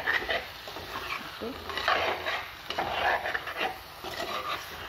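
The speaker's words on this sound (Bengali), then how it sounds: "দেখুন মশলার সঙ্গে ভালো করে কষাই নিচ্ছি" Fish being stirred and fried with spices in a pan for Kerala-style fish curry, up close, with irregular scraping strokes over a soft sizzle and no speech.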